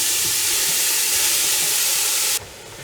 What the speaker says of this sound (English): Fry that down.